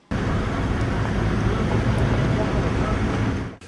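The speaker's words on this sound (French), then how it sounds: "Ici, le moteur tourne à plein régime." An engine runs at full throttle at a port hauling manganese ore in Gabon, a loud, dense, unbroken roar that holds steady throughout before cutting off abruptly at the end.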